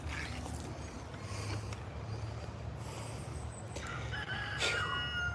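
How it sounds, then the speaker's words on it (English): A small miniature rooster crows in a garden, the call rising faintly over steady outdoor background noise, with a brighter burst near the end. "that little rooster's crowing"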